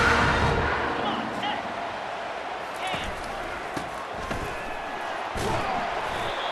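In College Football 25, a ball carrier is tackled and slammed to the ground with a few dull thuds of bodies hitting turf. The thuds sit under steady crowd noise while a commentator talks throughout.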